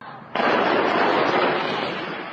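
A loud, sudden explosion in Iran, heard from a roadside, bursts out and then a broad roaring rumble carries on, slowly fading but still heavy, with no talking.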